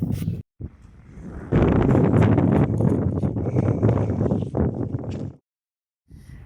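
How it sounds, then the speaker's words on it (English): Strong gusts buffet the microphone, a loud roaring rush that swells and cuts off abruptly, with brief quiet gaps. "It's so windy."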